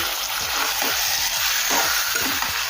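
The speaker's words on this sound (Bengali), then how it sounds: "এখন ভালোভাবে নেড়ে চেড়ে মিশিয়ে নেব।" Marinated mutton being stirred in a pot of hot spiced oil for Kolkata-style biryani, a steady loud sizzle with rhythmic scraping strokes of the spoon close by.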